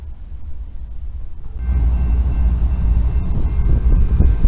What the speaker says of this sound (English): Here we're at the crossing and the train did stop and he's putting on helpers.